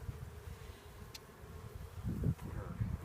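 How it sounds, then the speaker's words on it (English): A steady low drone of honey bees fills the clip, with a louder swell near the end, many bees buzzing close by at an open hive. "These bees, there's lots of bees left in there"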